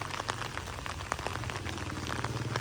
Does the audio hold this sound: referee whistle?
no